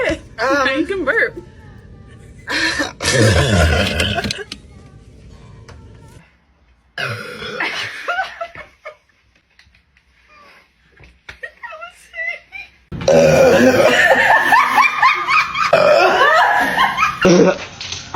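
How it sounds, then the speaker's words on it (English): Loud, drawn-out burps after gulping Sprite, bursting out between bouts of talking and laughter, with a long heavy stretch near the end. "Now you can burp."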